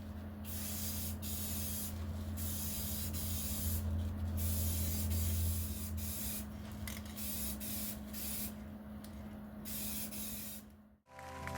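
Clear coat sprayed from an aerosol can onto upper control arms and tie rods from an S10 truck, a steady continuous hiss with short pauses between passes, close and loud, with no talking.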